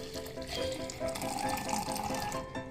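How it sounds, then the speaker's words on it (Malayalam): Strained raw mango and curd juice pours into a glass in a home kitchen, a close, continuous gurgling liquid stream lasting a few seconds without any talk. "ഒരു ഗ്ലാസ്സിലേക്ക് ഒഴിക്കാം"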